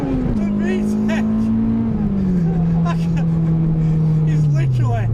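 A Honda Integra Type R DC2 engine revs hard and steadily up into VTEC, a loud sustained engine note running close under voices talking.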